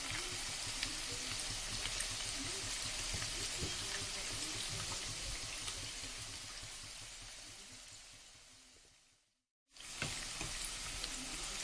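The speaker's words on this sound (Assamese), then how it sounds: "এনেদৰে মই দি ভাজি ল'ম" Maggi pakoras frying in hot oil on a gas stove, a faint, steady bubbling hiss with light crackles that slowly fades before a brief silence and then resumes.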